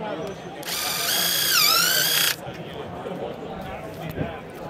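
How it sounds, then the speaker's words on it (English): A DeWalt impact driver powered pipe cutter slicing through PVC pipe gives a loud, steady high-pitched whine lasting under two seconds, its pitch dipping midway, then cutting off abruptly, with background chatter throughout. "I'm here to demonstrate our new impact driver powered pipe cutter for PVC and PEX."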